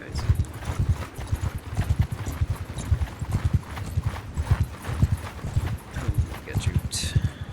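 Horse galloping in the video game Bannerlord, a fast rhythmic clip-clop of hooves running continuously, close and clear, with talk over it.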